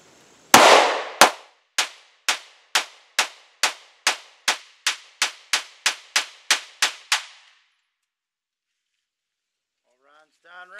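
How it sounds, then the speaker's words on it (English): A Polymer 80 Glock 19 pistol fed from a Glock 17 magazine fired rapidly at an outdoor range: about fifteen sharp, loud shots in a steady, fast rhythm, each with a brief ringing tail, followed by silence. "Rapid fire, best I can."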